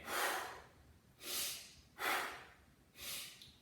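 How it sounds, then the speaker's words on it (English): Four heavy, rhythmic breaths during a workout exercise, each a long airy exhale, close and fairly quiet, spaced about a second apart with no talking. "listen to my breathing"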